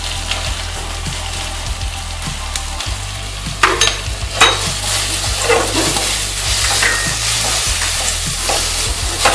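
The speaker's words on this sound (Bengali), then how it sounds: "মশলা কিন্তু খুব ভালো ফ্রাই হয়ে গেছে" Ground spices with Kashmiri chili powder and turmeric fry in a pan, giving a constant close sizzle and crackle with occasional scrapes and stirring knocks, louder bursts in the middle.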